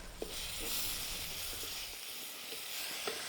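Mushrooms with fennel and curry leaves sizzling in a pan over an outdoor wild-kitchen fire, a bright steady hiss with a few soft pops and stirring taps.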